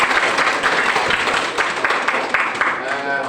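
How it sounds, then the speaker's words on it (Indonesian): A classroom audience breaks into dense, continuous applause for a presentation group, many hands clapping close and loud throughout. "Ya, tepuk tangan dulu."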